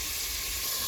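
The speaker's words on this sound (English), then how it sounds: "So the second batch is browning nicely." Ground beef browning in a crowded pan, giving off a loud, steady sizzle and steamy hiss that holds constant without pause.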